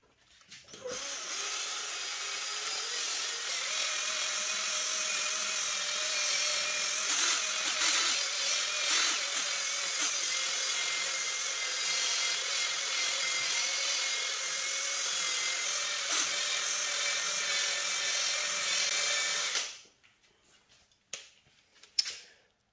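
A power drill spins a sponge with polish across the plastic rear window of a convertible, making a steady, loud, high whirring drone for nearly twenty seconds that then cuts off, leaving a few faint knocks.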